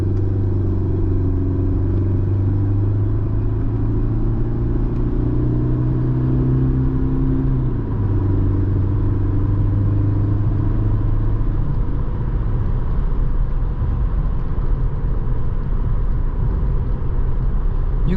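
A 2005 Mercedes-Benz C230 Kompressor W203 with a supercharged four-cylinder engine drives along, its steady low drone humming from inside the cabin, with a brief dip in pitch around a gear change before the engine settles into a smooth cruising rumble.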